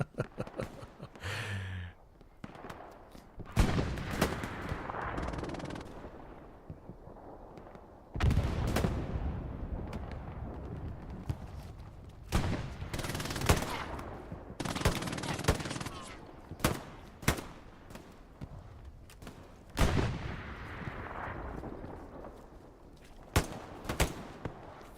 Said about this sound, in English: heard some shots